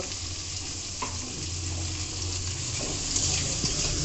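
Onions frying in a pan for a cabbage dum aloo recipe: a steady, close, dense sizzle that holds evenly throughout, with a faint scrape or two and no talking.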